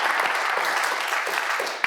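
Steady applause from a studio audience at a quiz show, a dense, even patter of clapping that holds for a couple of seconds, moderately loud, with one sharp clap near the end.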